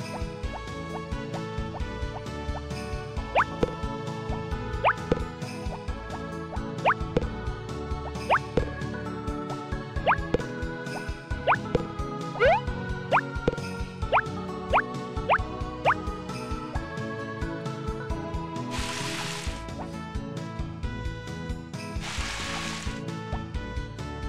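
Watering crops in the farming video game Harvest Moon Back to Nature: a string of short, bright watery plops and drips repeating in a loose rhythm over background game music, with two brief hissing pours near the end.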